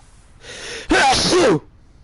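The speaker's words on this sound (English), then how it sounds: "Sorry about that sneezing." A single loud, close sneeze of a person, a brief breathy intake followed by a sharp explosive burst, alone in a quiet room.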